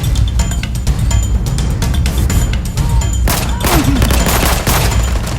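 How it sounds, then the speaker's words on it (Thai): Repeated Mosin bolt-action rifle shots in the shooter game Arena Breakout, set in a mountain pass: loud, dense crackling bursts that run almost without a break over a heavy low rumble. "กูยิงไปหลายนัดไม่ตาย"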